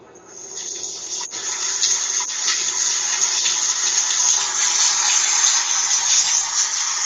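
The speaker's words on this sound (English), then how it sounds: "It kind of sounds like white noise or the ocean." Steady rushing hiss like water or ocean surf, building after a quiet start and then holding broad and even throughout.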